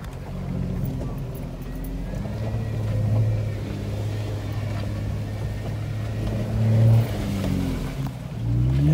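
A vehicle engine crawling in very low gears drones with a deep, steady rumble, swelling briefly as it revs and pulls, close and continuous throughout.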